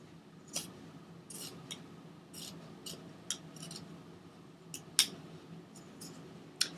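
Scissors snip around denim jeans in a series of close, sharp, irregular cuts, with faint rustling of the heavy fabric between the clips.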